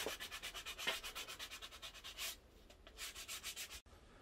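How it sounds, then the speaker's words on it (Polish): An aluminium car wheel rim is sanded by hand in quick, rhythmic back-and-forth strokes, a close, steady scratchy rasp that pauses briefly before resuming. "Szlifowanko, szlifowanko."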